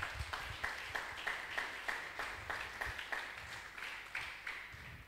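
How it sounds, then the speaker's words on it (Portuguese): A church congregation claps in a steady, rhythmic beat, each clap sharp and evenly spaced at moderate volume, a unison pulse of many hands filling the worship space. "Dá uma ofrenda de aplauso ao Senhor."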